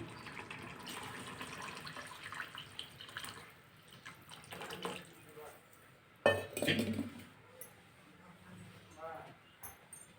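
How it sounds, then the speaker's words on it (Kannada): Water poured onto rice in a cooking pot while making palak pulao, a soft running splash with occasional metallic clinks of the pot and utensils, fairly faint, with a louder clatter partway through. "ಎರಡು ಲೋಟ ಅಕ್ಕಿ ತಗೊಂಡಿದ್ದೀನಿ ಮೂರು ಲೋಟ ನೀರು ಹಾಕ್ಕೊತಿದ್ದೀನಿ ನಾನು"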